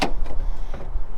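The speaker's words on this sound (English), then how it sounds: "Then we have the barn door style tailgate." The barn-door style rear tailgate of a 2022 Ford Transit Connect Wagon XLT swings open with a brief mechanical clunk and latch release up close, followed by a few lighter knocks and rattles.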